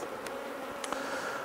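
Honey bees hum in a steady, dense drone during a hive inspection, with the frames open. The buzzing stays continuous and moderately close throughout, with a few brief higher flicks passing over it.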